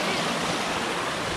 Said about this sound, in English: we found this creek. Hecka cool.